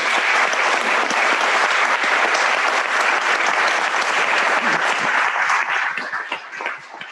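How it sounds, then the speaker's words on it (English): Audience applause at a round-table event on Antarctica, loud, dense clapping from a full room that holds steady, then thins into scattered claps near the end. "I think he deserves an applause."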